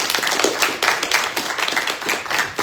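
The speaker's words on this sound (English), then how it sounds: "Can we give her a round of applause, please?" Audience applause for a guest at a Marianas diaspora event, a small group clapping nearby with distinct, uneven hand claps forming a brief, lively patter.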